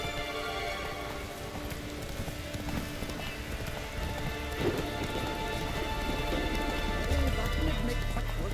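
Horse hooves clip-clop at a gallop through steady rain in the video game The Witcher 3: Wild Hunt, a continuous rhythmic patter under a constant rain hiss, fairly close and even in loudness.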